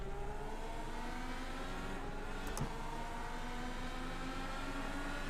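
Simulated IndyCar IR18 engines at Daytona in iRacing, a steady high-pitched engine drone with rising harmonics as the cars accelerate together at the race start, loud and continuous with a brief sharp click midway.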